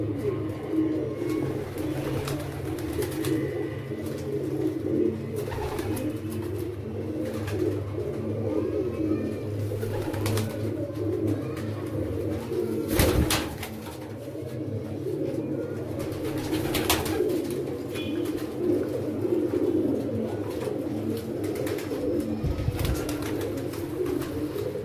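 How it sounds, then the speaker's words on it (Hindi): Low, steady cooing from Badshah pigeons, layered and continuous across the whole stretch, close and moderately loud with a busy background and a few sharp knocks. "यह भी बादशाह कबूतर है माशाल्लाह।"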